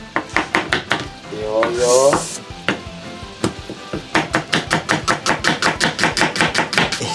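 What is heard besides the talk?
chopping green onions with a knife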